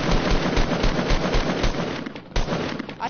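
Loud, close automatic gunfire rattles almost continuously in a multiplayer shooter video game, rapid shots stuttering in quick bursts with a brief gap and a sharp shot near the end.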